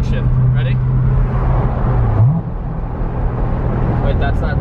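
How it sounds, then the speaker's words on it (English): Corvette Z06 with 650 horsepower, a steady low engine drone that dips and then jumps up sharply as it downshifts. People talk over the engine the whole time. "we're gonna downshift"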